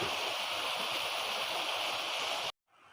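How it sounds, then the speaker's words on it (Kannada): A water stream runs through a small forest with a steady, even rushing and gurgling, then cuts off abruptly near the end. "ಈ ಕಾಡಿನಲ್ಲಿ ಈ ರೀತಿ ನೀರು ಹರಿತಾ ಇದೆ"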